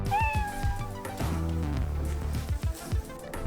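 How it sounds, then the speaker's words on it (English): A single cat meows loudly and close up in a drawn-out, wavering cry that slides into lower, throaty caterwauling, alone without any talk. "a singular cat"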